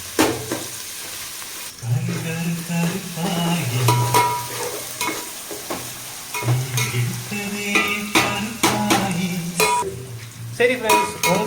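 Onions for a home-cooked biryani sizzle in a pan while a spoon stirs and scrapes them repeatedly, close and clear, with steady frying hiss under irregular stirring clatters.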